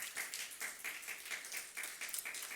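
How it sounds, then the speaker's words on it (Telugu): A church congregation claps together at a Good Friday worship service, a steady run of dense, rhythmic applause bursts with no talking over it. "గట్టిగా చప్పట్లు కొడదాం ఒకసారి."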